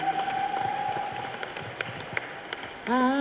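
Applause fills a congregation at an ordination service in ACK All Souls Cathedral, Machakos: dense, steady clapping over a sustained tone that runs for about three seconds before a voice begins speaking near the end.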